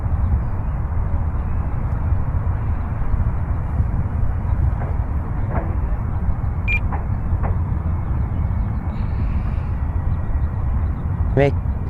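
Steady electric motor drone of a Night Radian FT 2-meter RC glider at low throttle, continuous and broadband wind-like hum with a few faint beeps and chirps over it.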